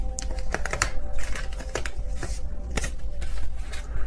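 Tarot cards are gathered off a reading board, producing a rapid patter of light card slaps and shuffling taps, close and clear, with no speech.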